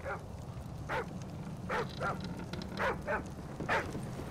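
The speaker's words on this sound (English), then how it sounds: "Thermal scans show attack dogs in your area." Attack dogs bark in Call of Duty Modern Warfare 3 survival mode, with about seven sharp, moderately distant barks in uneven pairs over a steady low game rumble.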